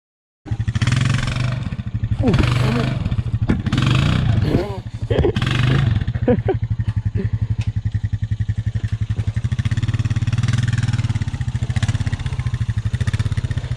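A riding mower stuck in mud roars loudly and steadily, with its engine held at high revs for the whole stretch, and a voice can be heard briefly near the start.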